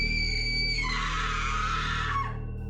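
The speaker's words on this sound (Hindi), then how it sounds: "मेरे कानों में एक लड़की की एक बड़ी ही खौफनाक चीख गूंजती है।" A girl's long, terrifying scream sound effect, piercing and sustained, rising in intensity midway before cutting off abruptly, heard alone over a low droning hum.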